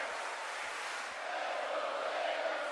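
A wrestling arena crowd in the WWE 2K17 video game cheers in a steady, dense roar that swells slightly toward the end, with no clear voices above it.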